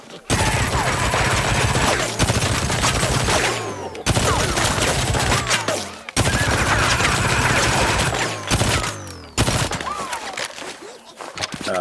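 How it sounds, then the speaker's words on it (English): Rapid Tommy gun-style popcorn fire from the Corn Crusher in PvZ GW2, loud continuous bursts broken by short pauses, with ricochet whines over the rattle. "Obviously Tommy gun inspired, and on top of the popcorn there's some ricochets."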